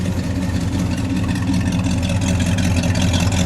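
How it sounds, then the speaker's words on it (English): A 1963 Studebaker Gran Turismo Hawk with an R2 engine idles steadily and loudly with a deep, continuous exhaust rumble on a cold morning around 40 degrees, no talking. "I'm going to listen to the exhaust now, please."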